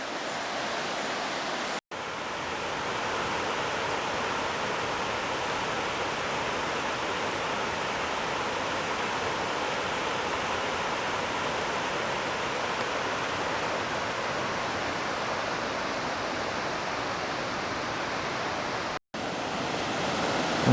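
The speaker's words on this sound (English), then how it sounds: "I could sit here and enjoy this river for a long time. I just love the sound, and it's just very relaxing to me." The Youghiogheny River near Ohiopyle rushes below a high trail overlook, a steady broadband roar of flowing water that continues unbroken at an even level, with no voices present.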